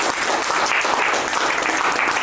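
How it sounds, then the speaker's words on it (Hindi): Dense, steady applause from a meeting audience at a franchise launch event in Ayodhya, loud and continuous throughout with no talking over it. "तो सर के लिए एक बार शानदार तालियां हो जानी चाहिए"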